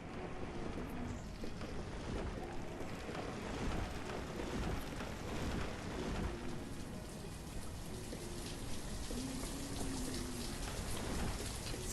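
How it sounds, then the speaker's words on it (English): Heavy rain in the city-building game Banished, a dense continuous downpour hiss with a low rumbling undertone, steady and enveloping throughout with no voices. "Somehow I don't remember the rain being that intense"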